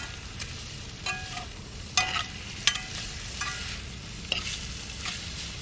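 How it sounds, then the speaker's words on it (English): Bacon-wrapped hot dogs sizzle steadily in a hot cast iron pan over a campfire, a continuous crackling fry broken by a few sharp scrapes and taps. "And you see it sizzling in the pan."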